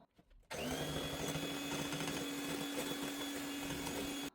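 A mixer beats cake batter of eggs, vanilla and sugar as oil is added gradually; the motor starts abruptly and hums loudly and steadily for several seconds at close range.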